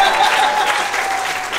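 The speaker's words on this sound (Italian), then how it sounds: "Applauso" Wedding guests at a villa reception applaud a toast to the bride, a brief burst of many hands clapping steadily and close, filling the room with a dense, even roar.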